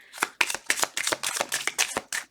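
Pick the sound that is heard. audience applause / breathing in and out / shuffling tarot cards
shuffling tarot cards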